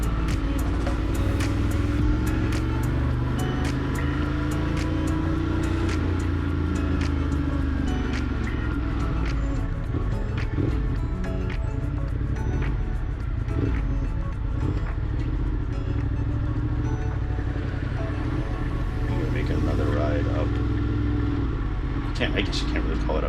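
A Ducati motorcycle runs along the Westside Highway toward New York City, its engine drone steady and loud under heavy wind rush, with a rider talking over the noise.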